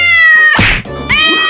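A person imitates a cat, voicing two close, loud meows separated by a short breathy burst, with a sliding pitch and no other talk.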